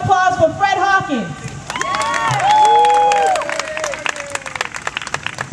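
Outdoor crowd at a Harlem Day festival applauds, cheers and whoops for a performer, loud sustained clapping with shouts and voices, music and tonal sounds in the first seconds.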